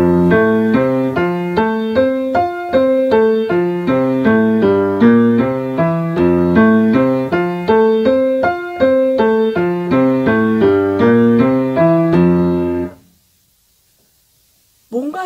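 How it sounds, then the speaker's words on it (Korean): Piano played without legato, fingers lifted high and the wrist held stiff, giving a steady run of detached, clipped notes, loud and close for about twelve seconds before stopping abruptly into silence. "제가 지금 레가토를 안 했을 경우를 쳐보겠는데요"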